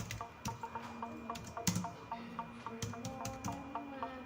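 Typing on a computer keyboard: quiet, close key clicks in an irregular rhythm with a few harder taps, and no voices.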